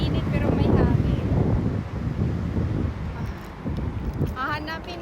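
Wind by a river on a hot day in Osaka, Japan, a steady rumbling buffet against the microphone, loud and continuous, with other sounds faintly underneath.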